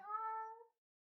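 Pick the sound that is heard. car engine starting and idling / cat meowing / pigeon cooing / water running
cat meowing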